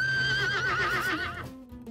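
A horse gives a loud, wavering whinny close up that lasts over a second and then drops into a lower snort-like tone at the end, with no talking.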